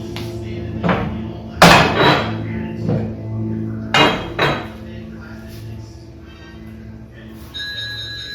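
Metal utensils and pans clatter and bang while a gas stove is wiped down in a home kitchen. Sharp, irregular clanks come in bursts with quieter rattling between them, and a voice talks over the clatter.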